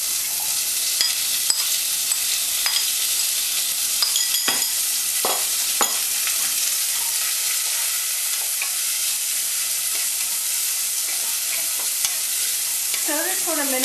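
Frozen vegetables fry with cardamom in a hot pan, a steady broadband sizzle throughout with scattered sharp pops and scraping clicks as they are stirred, close and fairly loud.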